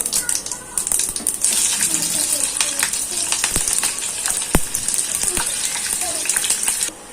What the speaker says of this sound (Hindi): सारी हरी मिर्च इसमें अच्छे से तल गई है